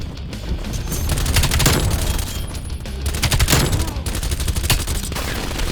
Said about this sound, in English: I got him with the shotgun from long range